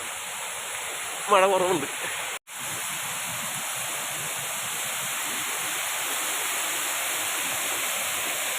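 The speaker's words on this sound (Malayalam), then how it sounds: "ഇതാണ് ഒരു വെള്ളച്ചാട്ടം അല്ലേ" A waterfall on a stream beside a house in a rain-soaked garden gives a steady, broad rushing hiss throughout, with a brief spoken remark early on.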